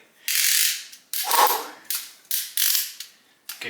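A ratchet clicks during plumbing work. Five or six short bursts of rapid, close metallic clicking come in quick strokes separated by brief pauses, with no talking.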